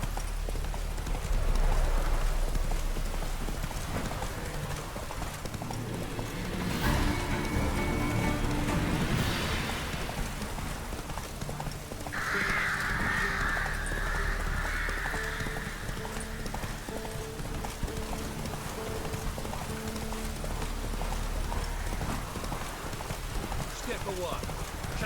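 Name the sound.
horse galloping hoofbeats in The Witcher 3 video game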